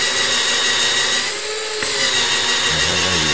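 Drill fitted with an Alfano engraver spindle drilling, a loud continuous high whine with a brief drop in load midway before it resumes steadily, close up and without talk.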